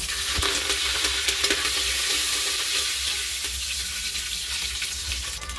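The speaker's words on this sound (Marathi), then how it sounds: "लसण अद्रक छान लाल होईपर्यंत तळून घ्यायचा आता त्याच्यामध्ये कढीपत्ता" Curry leaves with garlic and ginger paste fry in a pan for dal khichdi, a loud continuous sizzle close by with repeated scraping stirs and small crackles, and no talking.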